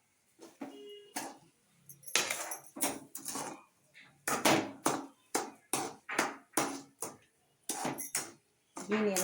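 Kesari, a semolina sweet, stirred in a pan: a series of short, separate scraping and knocking strokes from the spoon against the metal, close and fairly loud, with brief pauses between them.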